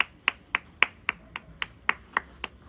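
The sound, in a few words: hand clapping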